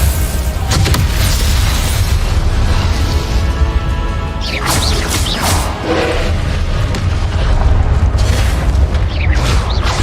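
A loud booming blast from the Confringo fire spell in Hogwarts Legacy erupts amid dense, continuous rumbling combat effects, with a few sharp bursts standing out near the end.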